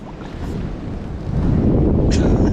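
Wind buffets a microphone on the bank of the River Thames, a loud low rumble that grows stronger partway through, with faint rustling over it.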